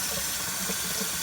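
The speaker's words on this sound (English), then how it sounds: "See that water shooting out of the side of that vent right there?" Water runs steadily through the open vent of a Kangertech Subtank Mini during cleaning, a constant close hiss and splash like a running tap, with no talking.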